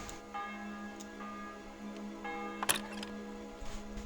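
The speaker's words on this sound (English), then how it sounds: "The bell's ringing for Hans the 5th time." Bell tolling in the medieval game Kingdom Come Deliverance 2, a few resonant strikes ringing out with long sustained tones over quiet game ambience, followed by a short clatter.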